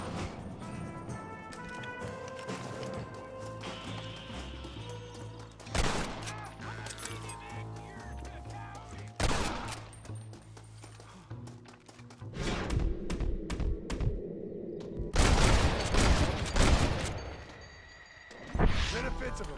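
Gunfire in the Red Dead Redemption video game: scattered sharp shots and bursts ring out over game ambience, with voices talking in between.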